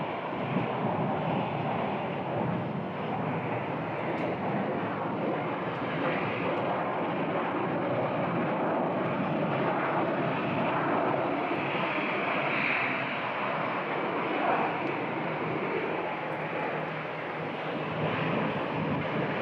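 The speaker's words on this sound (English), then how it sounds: "Next up, we're going to have a Beach 1900." Beechcraft 1900 cargo plane at Phoenix Sky Harbor Airport, a steady distant engine drone mixed with wind noise, fairly faint throughout.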